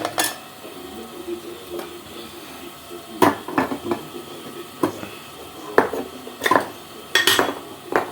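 A spoon scrapes and clinks against a pot while gongura prawn curry is stirred, with intermittent sharp metallic knocks at irregular intervals over a low background.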